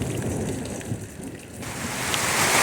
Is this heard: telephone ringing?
no